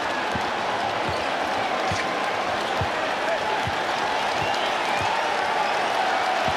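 Basketball arena crowd at a Boston Celtics versus New York Knicks playoff game keeps up a steady, distant roar of cheering and applause, with faint ball bounces thudding underneath.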